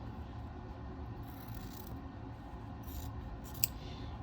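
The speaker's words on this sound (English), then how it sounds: "So trim, trim, trim, trim, 1/4 inch away." Scissors snip through the fabric corners of a quilt block, a few quiet cuts over a low room hum and one sharp close snip near the end, with no talking.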